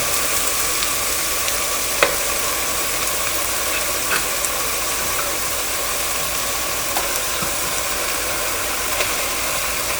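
Beef sizzles loudly in a hot pan with red dried chili peppers, a dense continuous frying hiss with a few small clinks and pops, close and steady throughout.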